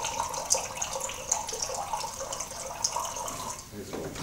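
Cleaning liquid runs through beer lines with a continuous trickling, splashing flow, and occasional small spatters sound close by.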